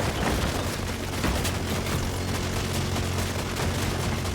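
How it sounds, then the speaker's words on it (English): Minigun fire in a battle royale video game, a dense continuous rattling barrage of rapid shots that stays loud and unbroken throughout, with no voices. "The minigun nearby being a distraction."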